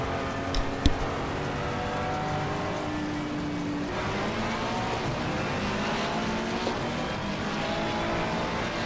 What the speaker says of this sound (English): you usually see a Ferrari launching like that.